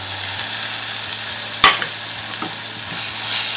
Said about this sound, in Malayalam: ഇതൊന്ന് നന്നായിട്ട് വഴറ്റിയെടുക്കണം.